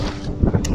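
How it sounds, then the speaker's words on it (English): Strong cold wind buffets the microphone outdoors during a long walk in wet weather, a loud, steady low rumble with gusty swells and no speech. "Don't think you can hear me with this wind."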